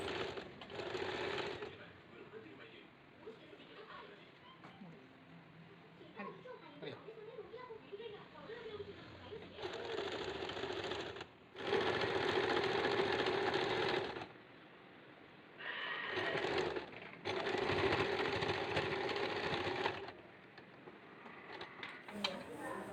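A sewing machine stitches the belt onto a silk pattu pavada skirt in several loud bursts of rapid whirring, with quieter pauses between runs and some speech in the background.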